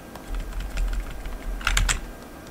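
Keystrokes on a computer keyboard tap out in a quick run of close clicks during a C++ coding session, ending in a brief cluster of sharper presses.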